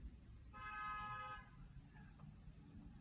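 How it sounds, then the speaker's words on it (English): A car horn honks once outside, a single steady toot of about a second, faint and distant over low background rumble. "I don't know if you heard that car horn"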